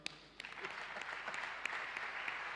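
A church congregation at a worship service claps and cheers for Jesus, sounding as steady distant applause with scattered sharp claps, fairly faint.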